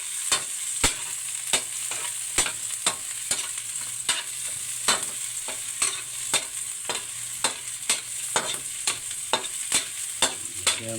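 Aromatics sizzling and frying in a pan, with a steady hiss broken by regular sharp scrapes and taps of a spoon stirring against the pan, close and continuous.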